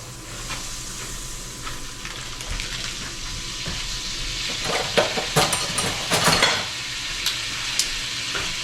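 Butter sizzling and melting in a hot pan before a steak goes in, a steady frying hiss with brief louder crackling bursts midway.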